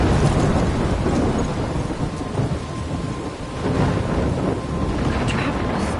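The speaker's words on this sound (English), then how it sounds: "I'm trapped in a storm?" Heavy thunderstorm with steady pouring rain and deep rolling thunder in the video game Life is Strange, loud and continuous throughout with no voices.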